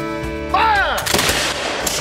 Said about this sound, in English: The British troops fired in unison